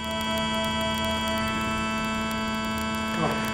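Two steady synthesized tones sounding together as a just interval around 330 hertz, a smooth sustained electronic hum without beating, with faint room noise and a brief rustle near the end.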